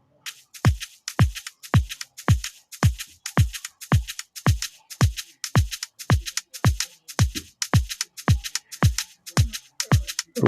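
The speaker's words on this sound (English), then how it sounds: "with the hi-hat it sounds like this" Afrobeat groove built in FL Studio Mobile with a hi-hat layered over shaker and kick, looping tightly with punchy low kicks and quick bright ticks in a steady danceable pulse.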